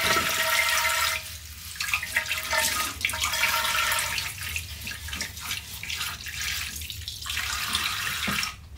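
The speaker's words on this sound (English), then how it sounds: "Washing these, I'm only washing the vases." Tap water runs steadily into a sink while flower vases are rinsed and washed, a continuous splashing rush with brief shifts as the vessels are moved under the stream, no talking.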